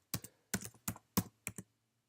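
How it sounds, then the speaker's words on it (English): Five quick, close bursts of computer keyboard typing, each a short cluster of crisp key clicks separated by brief pauses, with no voice. "So I go back to my RStudio and I'm going to type again from the console,"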